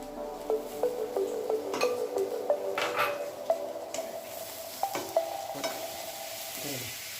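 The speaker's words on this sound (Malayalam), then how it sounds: "ടൊമാറ്റോ വേവുന്നിടം വരെ ഒന്ന് ഇളക്കി കൊടുക്കാം" Tomatoes and sautéed onions stirred in a pan with a spoon, repeated clinks and scrapes against the metal over a low sizzle, close and moderately quiet, no talking.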